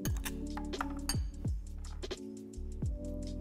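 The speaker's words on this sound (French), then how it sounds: "avec une cuillère, je vais juste venir mélanger pour que ça s'imprègne de partout" A spoon mixes ingredients for a winter salad in a bowl, giving a series of sharp, ringing clinks against the dish at an uneven rhythm, close and clear, with no speech.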